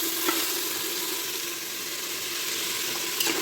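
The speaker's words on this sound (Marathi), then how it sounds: "5 टमाटे आणि 5 कांदे, दोन्ही टाकून द्यायचं। त्याला 5-10 मिनिटं तरी त्याला फ्राय होऊ द्यायचं।" Tomatoes and onions frying together for chicken biryani give off a steady, dense sizzle at close range, holding an even level throughout with no voices.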